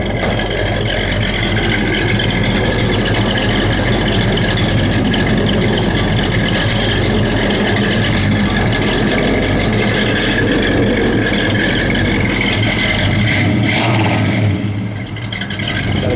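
A 1964 Ford Falcon Sprint engine runs steadily and loudly, a continuous close rumble with no break and no talking.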